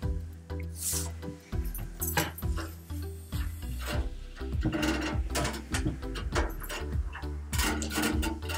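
A sewing machine stitches a folded half-inch hem on a cloth piece for a homemade lunch box cover. It makes a close, steady mechanical whir with a quick rhythmic clatter that starts and pauses in short runs.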